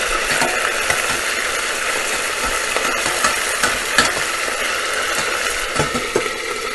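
Meatball mixture stirred and fried in a pan, a steady close sizzle under repeated scraping stir strokes, with occasional sharper clicks of the spoon against the pan and no talk.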